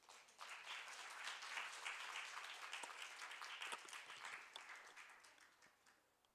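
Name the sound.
audience applause welcoming a presenter onto the stage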